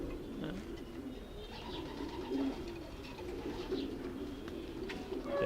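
Racing pigeons coo softly and repeatedly in a loft, low rolling calls overlapping at a moderate distance against a quiet background hiss.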